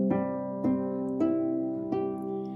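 A concert harp string is plucked near the sounding board four times in a steady pattern, each note bright and twangy with a ringing decay, close and clear with no voices.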